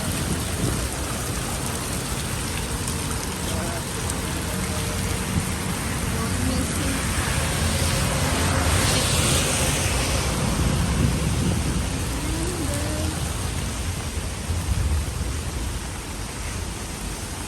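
Heavy, unbroken rain pours down in Singapore, a dense steady hiss filling the whole stretch at constant loudness, with faint low rumbles and a voice murmuring in the background.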